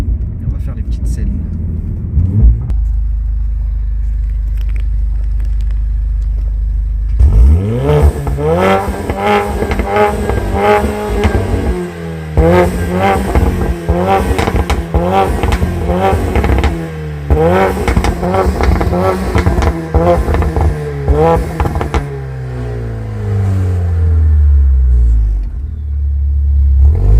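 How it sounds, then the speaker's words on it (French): A stage 2 tuned car with a Milltek exhaust, around 440 hp, idles low before launching into loud, close acceleration, its engine note climbing in repeated rising sweeps through several gear changes, then easing off into a falling, burbling deceleration. "c'est abuser le son moteur"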